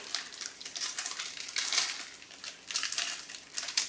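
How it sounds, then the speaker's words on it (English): A plastic bag holding product documentation for a NAS upgrade crinkles and rustles in quick, irregular bursts close to the microphone, with no voices. "plastic bag for all the documentation"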